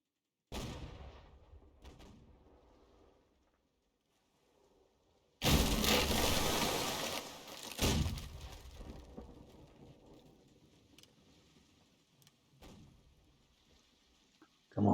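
Cannon fire in the musket-era battle game Holdfast 2: after a quiet stretch, two heavy booming blasts land a couple of seconds apart, then fade into scattered softer shots and rumbling.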